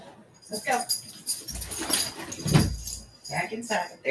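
Dalmatians being let outside, with dog whimpers and yips, a jangle of keys and door handling, while a person talks over the activity.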